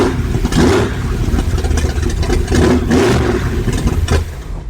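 A big-block engine in a 1955 Chevy, running loud and close with a deep, rough rumble that swells in a few uneven revs before settling, and no talk over it.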